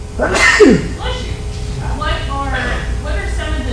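A single loud, abrupt sneeze bursts out at the start in a room during a talk. It is followed by low voices and the room's background hum.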